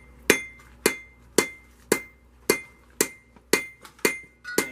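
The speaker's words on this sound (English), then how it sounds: "You're hammering." Hammer blows on metal during a shop apprenticeship job, nine sharp ringing strikes at a steady, roughly half-second beat, each decaying briefly, close and loud with no talking.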